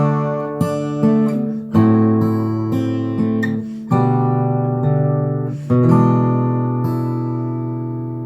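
Fingerstyle acoustic guitar plays an arrangement of a song, measures 12 and 13 with optional notes, a steady run of plucked notes and ringing chords, close and unaccompanied.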